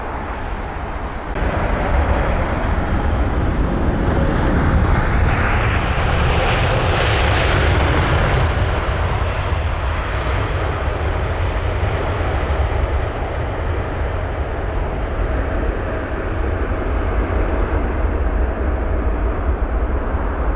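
Singapore Cargo Boeing 747 landing at London Heathrow, a loud sustained engine roar that kicks in abruptly and stays heavy throughout, with a whining sweep rising and easing as the jet goes past.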